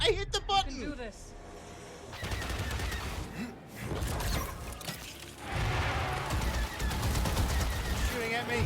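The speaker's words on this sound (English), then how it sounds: "Stop shooting at me!" Bursts of gunfire aimed at the player in Star Wars Jedi Survivor, rapid overlapping shots from nearby, with music and a person talking over the shooting.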